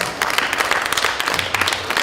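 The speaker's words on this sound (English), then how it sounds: "Give her a big round of applause." Short burst of audience applause at a community devotional event as a young performer is welcomed to the stage, many hands clapping fairly close and steady.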